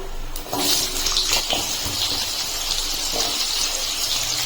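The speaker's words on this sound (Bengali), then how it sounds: "ফোড়নটা ভালো করে ফুটে গেলে আমি দিয়ে দিচ্ছি আলু।" Potatoes drop into hot oil tempered with whole cumin and radhuni seeds, setting off a sudden burst that settles into a loud, continuous hissing sizzle close by, with no talking.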